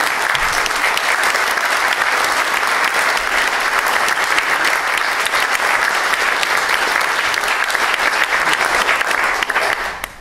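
Sustained, dense applause from a conference audience at a colloquium on secularism and higher education, steady and loud throughout before cutting off at the end.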